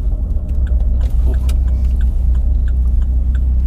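A tuned 1.6-litre Corsa VXR making about 430 bhp at stage 4.5, heard from the cabin as a loud, low engine rumble under load, with faint rhythmic clicks and rattles, no speech.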